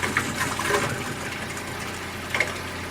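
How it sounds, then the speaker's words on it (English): A small pump pushes water through a water system's lines, purging trapped air: steady gushing, hissing flow with short sputtering bursts near the start and again toward the end, moderately loud and close, with no voices. "So now the pump is pushing the water through, blowing the air out of the lines."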